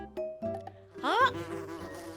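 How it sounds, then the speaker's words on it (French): A loud bee buzz swells briefly, rising in pitch, then trails off with a softer hum under quiet background noise. "c'est une abeille."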